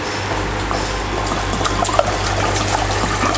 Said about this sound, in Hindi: अभी हम दोबारा नॉर्मल वाटर डालेंगे इसके अंदर थोड़ा।